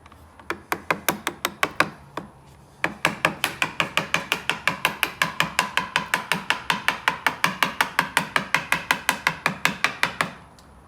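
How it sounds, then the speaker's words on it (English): Mallet striking a chisel to cut out material in a simple hand-tool woodworking project, a loud, close run of sharp, rapid, regular blows with a brief pause after the first burst, no talking. "And just cut out the material. And point your chisel uphill a little bit like this."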